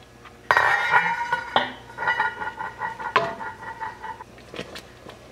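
A metal lid comes off a pot of cooking apple butter with a sharp clank, followed by ringing metallic rattles and a few lighter clinks of the lid and pot before it settles.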